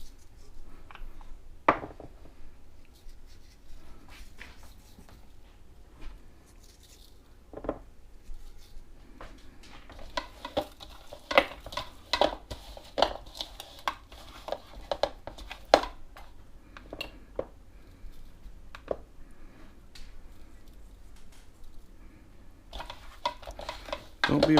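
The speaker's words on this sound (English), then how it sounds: "I want to get them seared up. So I'm just going to put some salt and pepper on them and get them in my Dutch oven over here." Salt-and-pepper-seasoned beef short ribs sear in a Dutch oven, a soft sizzle broken by scattered clinks and scrapes of utensils against the pot, fairly quiet and with no talk.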